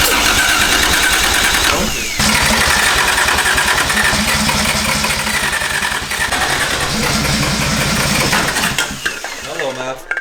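A 1JZ VVTI engine swapped into a BMW E36 cranks and fires for the first time, then runs loud and steady, with a rough, rumbling idle held close by, a brief dip around two seconds, and voices talking underneath.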